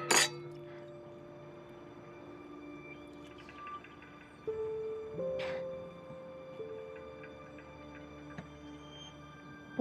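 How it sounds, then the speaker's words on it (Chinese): Glasses clink together in a toast at a social gathering: a sharp chime near the start, then a few softer clinks later, over a quiet room with faint background tones. "这杯你们随意，我和老罗得干杯。"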